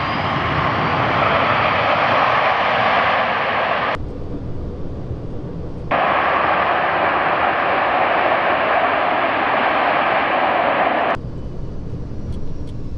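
A Nolinor Boeing 737-200 jet landing on a gravel runway at Meadowbank Mine, heard as a loud continuous broadband roar that swells and briefly shifts in tone as it rolls out.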